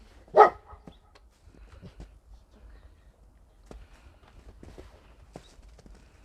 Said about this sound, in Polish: Dobry piesek.